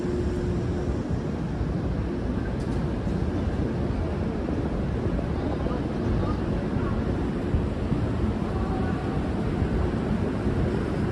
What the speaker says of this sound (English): Just got really windy all of a sudden too.